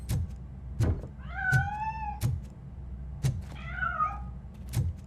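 A cat meows twice in Robocop Rogue City, drawn-out rising cries set among heavy mechanical footsteps thudding at a steady pace, fairly close and clear with no talk.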